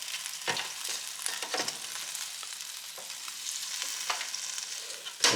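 Chicken thighs crisping in an air fryer give a soft, steady sizzle with scattered crackles and pops, moderately quiet and close, ending in a short louder clatter; no talking.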